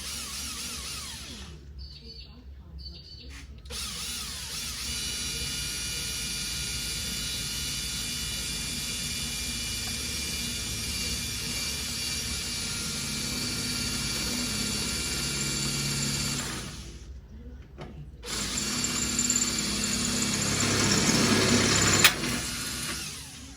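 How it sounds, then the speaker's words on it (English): Drilling a hole near the control panel of an 80 W CO2 laser: a steady, close whine with two brief breaks, growing a little louder toward the end. "So I'll just drill a hole here."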